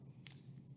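Scissors make a single quick, faint snip while cutting a paper-backed balsa glider fuselage, heard close against a low room hum.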